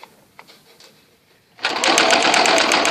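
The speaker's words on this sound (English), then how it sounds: "back stitching, and you're going to stitch right in that seam" A sewing machine back stitching a Hong Kong seam starts after a few faint handling clicks, then runs in a loud, fast, steady mechanical chatter close by.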